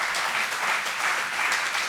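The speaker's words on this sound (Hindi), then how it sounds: "तो ताली बजा दी वीसी साहब के लिए।" Audience in a university hall in Delhi bursting into dense, steady applause, many hands clapping together at close range without a break.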